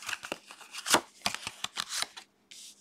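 A deck of playing cards is shuffled and a card is drawn: a quick run of crisp riffling snaps and flicks up close, then a brief pause and a soft final slide.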